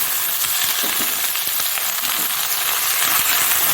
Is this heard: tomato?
yes